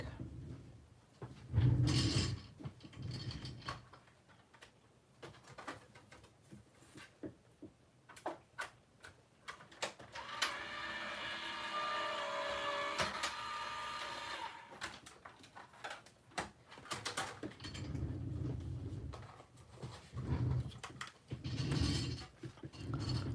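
A paper craft machine feeds a stamped card piece for a gift card holder, whirring steadily for several seconds amid nearby clicks and rustles of handling paper.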